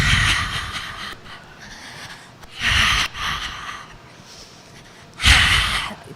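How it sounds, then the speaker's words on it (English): A person panting with the tongue out like a dog during a breathing exercise, heard as short, loud bursts of heavy breath separated by quieter gaps, with no talking. "I'm panting"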